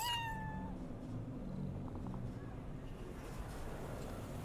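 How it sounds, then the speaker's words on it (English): A single short meow from a petted cat in Cyberpunk 2077 opens the moment, followed by faint low ambient rumble and quiet background noise. "Pet the cat again."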